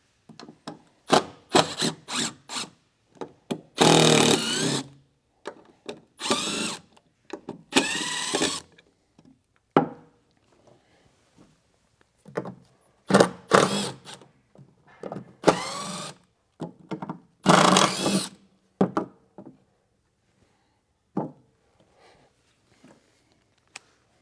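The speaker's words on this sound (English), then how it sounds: "These blocks right here are held on with screws, and we'll go ahead and remove them." Screws being backed out of blocks on a tractor frame with a socket and square drive bit, heard as a series of short grinding, rasping bursts separated by pauses and small clicks, close and fairly quiet.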